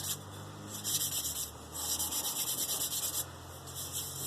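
Sandpaper rubs back and forth over a classic wooden spoon in close, steady bursts of scratchy strokes separated by short pauses, with no voices.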